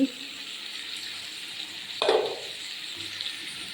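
Pumpkin and potato curry sizzling in a pan on the stove, a quiet steady fry with a short brighter burst of sizzle partway through as it is stirred or added to.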